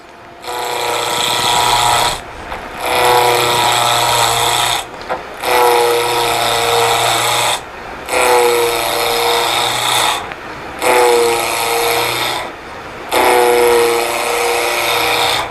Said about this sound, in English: now I get my roughing gouge and my face shield, and we'll get making some shavings here.